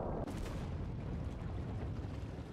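A rocket ship launches in a Henry Stickmin video game with a loud, sustained roaring rumble that opens with a bright burst and then holds as a dense, steady blast throughout.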